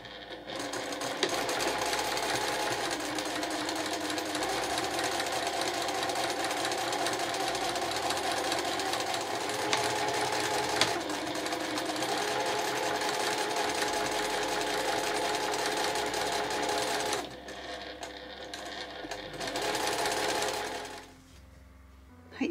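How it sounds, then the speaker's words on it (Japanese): A sewing machine runs a 7 mm seam along a fabric pouch: a loud, continuous rapid chatter of stitching that pauses briefly near the end, starts again, then stops. "そしたら端から端まで先ほどと同じように7ミリで縫います。"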